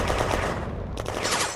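Gunfire in a World War II video game set in May 1940 at the Flaumont industrial zone, a dense, loud, continuous rattle of shots and blasts with a brief gap near the end.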